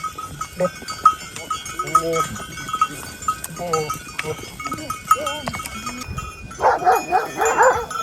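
Several dogs bark in short bursts at cattle among goats out in the cold countryside, fairly near, with livestock bells clinking and a person shouting in between.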